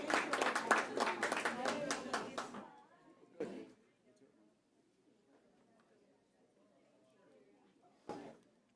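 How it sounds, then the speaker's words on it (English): School board meeting audience gives a round of applause: about two and a half seconds of brisk, fairly close clapping that stops abruptly, followed by quiet room sounds, a brief thump and another short burst of noise near the end. "Let's give them another round of applause."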